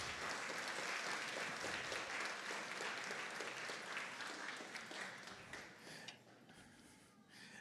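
An audience at an innovation and entrepreneurship awards night applauds the judges, giving dense, steady clapping that fills the room and fades toward the end.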